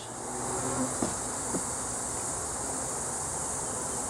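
A steady, dense buzzing of many honey bees at a hive fills the air, close and continuous, with a couple of soft knocks early on.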